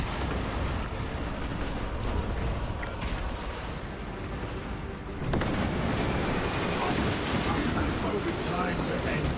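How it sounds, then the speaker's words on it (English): A Titan in the Space Marine video game fires at the player, producing a dense, continuous barrage of heavy booming blasts and rumbling impacts that swells louder partway through. "The Titan fires at us."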